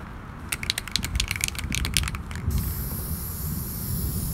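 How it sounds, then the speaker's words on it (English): A can of black spray paint hisses in a rapid burst of short bursts, then one long steady spray, coating a Dollar Tree craft piece up close with no talking. "you're going to take your black paint and spray that entire piece as well"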